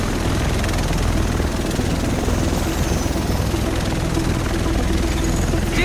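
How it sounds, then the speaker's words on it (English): Helicopter in flight from the game Tom Clancy's The Division, a loud continuous rotor thump and engine drone that stays close and steady throughout, with no one speaking over it. "The rest of us should be in this chopper."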